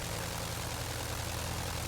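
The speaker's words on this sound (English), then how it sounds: "you kind of hear this fan noise, and that's the prop going through the air" Curtiss JN-4 biplane in flight over Maine, its handmade propeller giving a steady, loud whooshing fan drone over a low engine hum, continuous and unbroken throughout.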